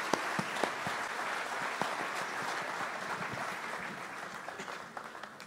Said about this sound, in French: Give the Lord a hand clap for her.